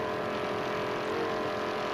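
A steady, dense engine roar from an offshore racing powerboat with a 650 hp Chevy inboard and Mercruiser drive, running continuously at high power with no talk.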